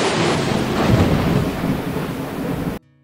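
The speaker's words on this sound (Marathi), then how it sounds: "गडगडाट चालू झाला" Thunder rumbles low and continuously as a storm begins, loud and close, mixed with steady rain and wind before cutting off abruptly near the end.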